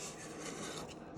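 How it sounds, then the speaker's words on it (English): A spatula scrapes around the bottom of a mixing bowl of thick red velvet cake batter, a continuous close rasping rub with small rhythmic variations and no talk. "Scrape the bottom of the bowl."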